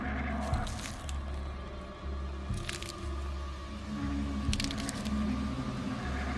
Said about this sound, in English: That familiar, awful sound. The crunch of those needles.